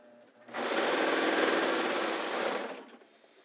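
A sewing machine chains off thread with the presser foot down and nothing under the needle, one steady burst of rapid mechanical stitching of about two seconds that starts and stops sharply, close and loud, with no talk.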